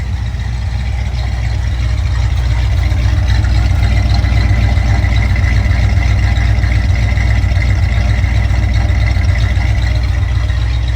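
A 1970 Chevrolet C-10 pickup's 350 V8 engine idles with a steady, deep, smooth rumble, loud and close, running without a break and with no talking.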